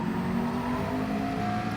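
A McLaren race car in Gran Turismo 7 holds a steady, droning engine note at speed, a continuous mid-pitched hum heard on its own for a short stretch.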